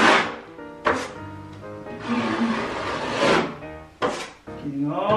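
A drywall knife scraping excess joint compound off a sheetrock hole patch, with repeated rough strokes, each starting on a sharp knock, close and fairly loud.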